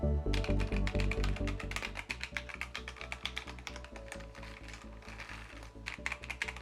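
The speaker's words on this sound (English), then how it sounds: "Let's quickly check the sound of this keyboard." Rapid, steady clacking of keys being typed on a keyboard, close and crisp, with a low hum beneath for the first couple of seconds.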